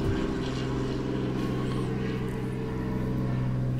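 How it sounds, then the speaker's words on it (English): A steady, droning rotor-engine hum with a low whine holds constant throughout, loud and close, with no other sounds rising above it. "Helicopter."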